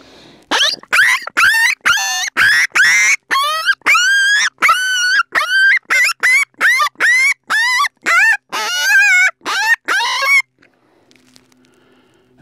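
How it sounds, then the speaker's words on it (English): A split-reed predator call blown close by pours out a rapid string of wavering, squealing coyote pup distress cries, around twenty sharp bursts, before falling quiet. "sound comes from that split reed, it can be used all year round for distress sounds"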